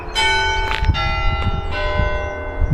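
Church bells ring out loudly at a graveside in Barnes, their tones overlapping and sustaining, struck repeatedly with no voices.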